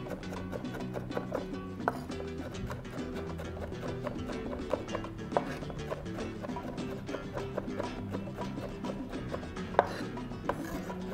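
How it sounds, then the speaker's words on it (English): A knife chops fish into very small pieces for ceviche, tapping the cutting board in a quick, fairly steady rhythm of light knocks over several seconds, close and moderately quiet without speech. "Chop it up really, really small."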